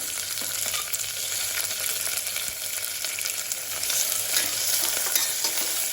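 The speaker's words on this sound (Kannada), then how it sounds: "ಜೊತೆಗೆ ಹಸಿಮೆಣಸಿನಕಾಯಿಯನ್ನು ಸಹ ಹಾಕ್ಕೊಂಡು ಫ್ರೈ ಮಾಡ್ಕೊಳ್ತೇನೆ." Chopped onion and green chilies frying in a pan with cashews for methi matar pulao, a continuous close sizzle with faint stirring scrapes and small crackles throughout.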